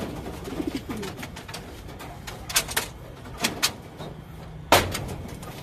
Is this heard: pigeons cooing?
yes